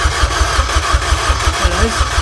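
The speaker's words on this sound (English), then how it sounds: "we're going to crank over until oil comes out of that pickup" A Honda K20 engine swapped into a Mazda RX7 cranks over on the starter, a steady rhythmic chugging of compression pulses that runs loud and close for the whole stretch without catching.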